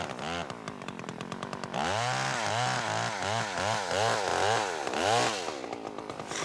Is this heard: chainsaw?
yes